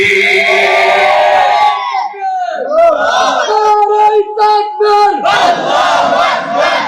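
A large crowd at an Islamic religious gathering in Bangladesh roars a loud collective shouted response, then a rhythmic burst of voices calling out together, close and overwhelming with no separate speech.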